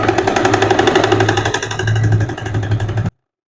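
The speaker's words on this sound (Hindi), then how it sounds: "अब ये इसको अंदर की तरफ को फोल्ड करके एक सिलाई लगा लेंगे यहाँ पे" A sewing machine runs steadily, stitching a folded-in seam on a kurti made from an old saree, with a close, continuous mechanical hum that pauses briefly around the midpoint before resuming.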